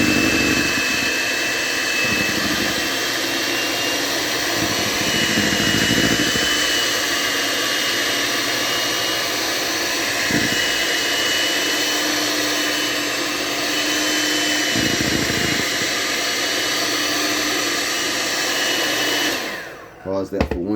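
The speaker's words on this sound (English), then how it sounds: "You can always turn the mixer up to help facilitate this." An electric mixer beats cheesecake batter with a steady, loud whirring drone that runs nearly unbroken for about twenty seconds, its pitch shifting slightly in bursts before cutting off abruptly at the end.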